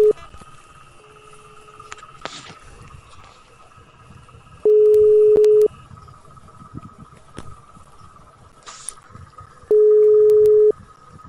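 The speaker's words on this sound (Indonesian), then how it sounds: "Kita telepon langsung." A telephone line tone sounds while a call is being placed: two long, loud, steady beeps about five seconds apart over a quiet hiss of the line, with a few shorter faint tones in between.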